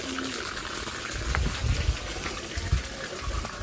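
Water flows and gushes steadily from a spout or channel in a mountain village set in a deep valley, a continuous wash with a few louder splashes near the middle, recorded close by.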